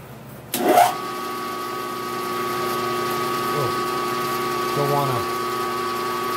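A small lathe motor starts up with a clunk and settles into a steady whining hum, close by, with small tonal shifts as the center drill engages.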